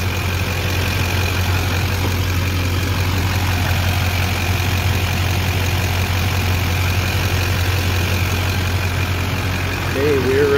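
A diesel engine idles just after starting, a steady low rumble with a constant drone that stays even and close throughout, without talking.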